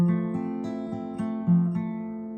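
An acoustic guitar plays a short descending, doorbell-like riff, with clear plucked notes ringing on sustained strings. It is played alone at close range.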